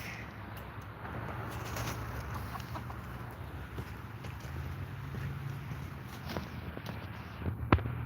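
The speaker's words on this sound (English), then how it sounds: "Hi, little chickens." Chickens cluck softly and intermittently nearby over a steady low background hum, with a few scratchy rustles and a sharp knock near the end.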